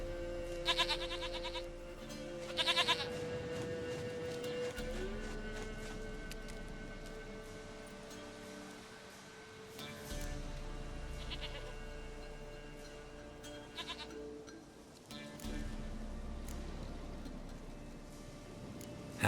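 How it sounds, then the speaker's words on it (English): A goat in the video game The Witcher 3: Wild Hunt bleats several times in short wavering calls, close and clear over a quiet ambient background. "Goat of mine, dearest, sweetest goat."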